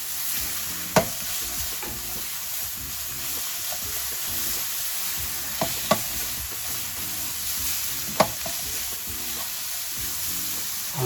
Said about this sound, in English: and then we add a teaspoonful of ginger garlic paste